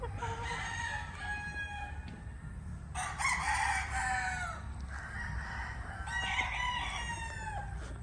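White leghorn chickens and roosters at a poultry farm, with several roosters crowing in long overlapping calls at moderate distance over a steady background of clucking and farm noise.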